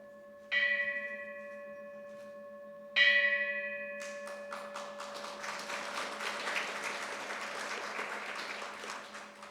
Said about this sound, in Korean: 개회 타종이 있겠습니다